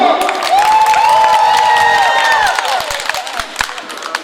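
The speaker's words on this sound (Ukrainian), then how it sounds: "Ваші оплески! Антон!" Audience at a karaoke contest applauding and cheering for a contestant, a dense, loud wash of clapping with whoops and a sustained tonal sound, likely music or feedback, running through before thinning out toward the end.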